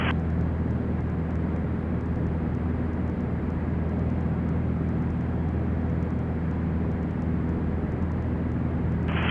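A Cessna Skyhawk's engine drones in a flight simulator game, a steady loud cockpit hum with a constant low rumble and no talking over it, running unchanged for the whole stretch.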